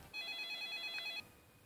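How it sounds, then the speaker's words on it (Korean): A mobile phone rings once in a single short, faint electronic trill that lasts about a second in an otherwise quiet room. "휴대전화 벨이 울렸다."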